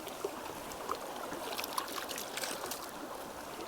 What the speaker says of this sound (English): Give that a rinse. Give the top a rinse.